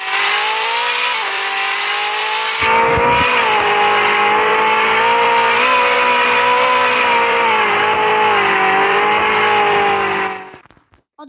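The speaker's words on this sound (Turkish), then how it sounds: "Bakın arabanın sesini size göstereyim." A loud, sustained car engine drone in a Roblox game holds at high revs for about ten seconds, slightly wavering in pitch, then cuts off abruptly.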